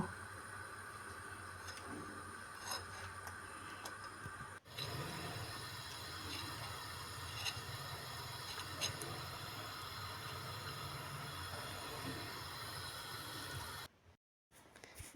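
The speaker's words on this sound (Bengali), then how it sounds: "এগুলো আমি ভেজে নিচ্ছি খুব বেশি গরম হলে ভেতরটা হবে না আস্তে আস্তে আমি মচমচে করে ভেজে নিচ্ছি" Battered pumpkin flowers fry in hot oil over medium heat with a steady, soft sizzling hiss that runs without a break.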